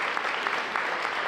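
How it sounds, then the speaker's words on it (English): A brief burst of dense, even applause from an audience at a school district State of the District event. "let's give a round of applause for Tito, Art Coleman"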